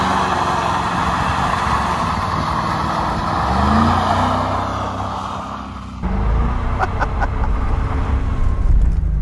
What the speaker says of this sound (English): Let's take our now Corvette Coupe convertible out for a test drive.